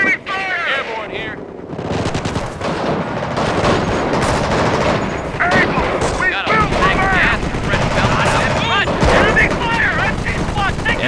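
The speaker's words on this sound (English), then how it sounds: "Incoming enemy fire!" Dense battlefield gunfire in the Company of Heroes strategy game, with machine guns rattling and rifle shots cracking almost without pause, loud and close, while brief unit voice lines sound amid the shooting.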